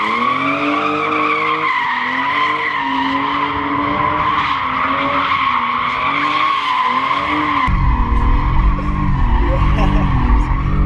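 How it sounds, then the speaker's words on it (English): A BMW E36 M3 drifting with a rear limited-slip differential, long loud tire squeal wavering over a revving engine, the engine note deepening and roughening toward the end. "It makes drifting really easy."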